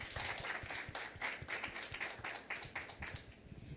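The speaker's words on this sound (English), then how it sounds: "Let's give them one more round of applause." An audience at a climate-risk panel event applauds the panelists: brisk, steady clapping from a modest crowd, fairly close and uninterrupted for a few seconds.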